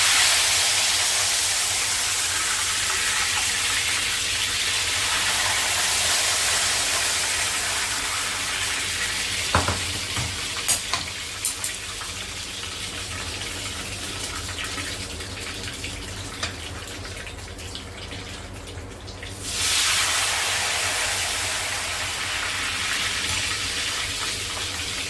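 Thin ghevar batter spooned into a ring hisses and sizzles steadily in hot oil, a loud broadband frying roar that briefly surges, with a few clinks of the spoon partway through.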